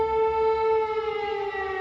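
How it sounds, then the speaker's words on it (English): An air raid siren wails steadily with strong harmonic tones, loud and continuous, holding a sustained pitch with a slight waver throughout. "they got those classic air raid sirens"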